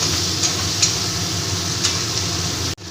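Tomato and slit green chillies being stirred in a frying pan, a steady soft sizzle with a few faint scraping clicks of the spoon, loud and close throughout, ending in a brief cutoff.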